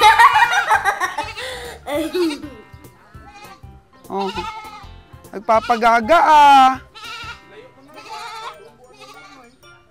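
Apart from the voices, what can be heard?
goats bleating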